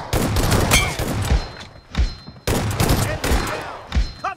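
Shotgun fire in BGMI, an S12K in a team deathmatch, with repeated loud blasts coming in bursts and a brief pause midway, mixed with game effects and faint voices.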